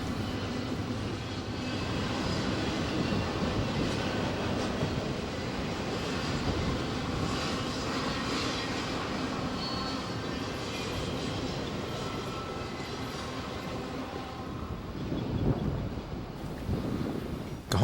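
A BNSF container freight train carrying J.B. Hunt containers passes through Cajon Pass, producing a loud, continuous rumble that holds steady throughout, with wind buffeting the microphone.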